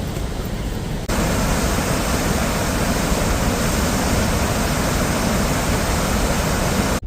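Someshwar waterfall near Nashik in full flood, a continuous heavy roar of rushing water that surges louder after the first second and stays dense and unbroken.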